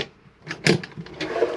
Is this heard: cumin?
no